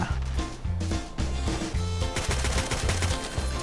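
Rapid bursts of gunfire in a video game, with repeated rhythmic volleys of shots and music-like tonal layers beneath, loud and continuous across the whole stretch.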